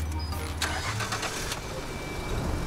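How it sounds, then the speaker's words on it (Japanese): A Nissan Skyline HR32 engine cranks and fires up, a brief starter whir followed by the motor catching and settling into a low, steady idle close by. "エンジンかけますね。"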